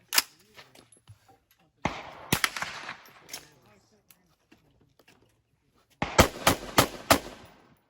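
Rapid bursts of rifle fire from a KA-15 rifle shooting 55 grain rounds, loud and sharp near 0.2, 2.3 and again as a fast cluster of four shots near the end, with quieter gaps and handling noise between.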